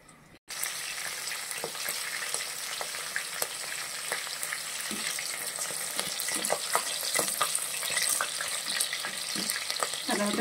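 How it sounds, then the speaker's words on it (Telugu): Slit green chillies hit hot oil in a pan and burst into a loud, close crackling sizzle that holds steady with small pops and spatters throughout. "ముందుగా చీలికలు చేసిన పచ్చిమిర్చి వేసుకుందాం."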